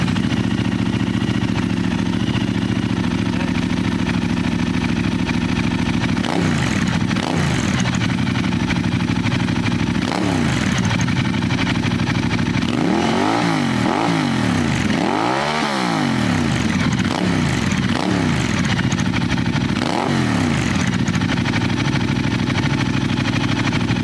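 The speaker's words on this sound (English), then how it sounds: "It's really an awesome sounding bike." A Ducati Diavel motorcycle engine idles loud and close, then revs up several times in a row, each rise and fall of pitch clearly sweeping over the steady idle, with no talking.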